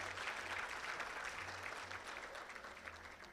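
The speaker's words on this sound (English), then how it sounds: "I would request that we give them a round of applause." Audience at a national job fair launch ceremony gives a faint, distant round of applause, steady clapping heard quietly for a few seconds with no talk.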